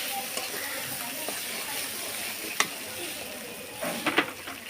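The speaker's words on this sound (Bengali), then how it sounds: "দিয়ে দিলাম টমেটো কুচিটা দিয়ে সুন্দর করে নেড়ে" Chopped tomato is stirred into frying spice paste in a pan, a steady close sizzle broken by a few sharp spoon scrapes and stirring knocks near the end, with no clear talking.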